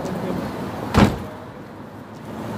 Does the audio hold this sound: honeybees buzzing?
no